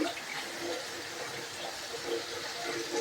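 Hot water is poured off boiled vegetables in a kitchen, a continuous gushing, splashing stream that sounds moderately close and keeps going for the whole stretch with no talking.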